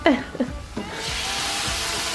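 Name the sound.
chopped tomatoes sizzling in a pan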